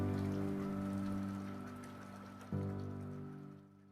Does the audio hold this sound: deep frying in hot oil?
no